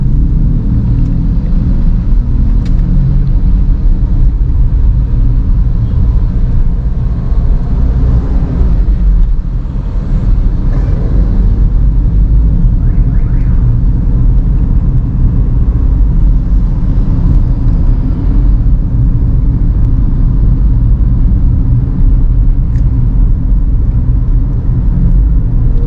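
A 2010 Honda CR-V with the 2.4 engine and automatic transmission heard from inside while driving: steady loud low engine and road rumble with tire noise, continuous throughout with no talk.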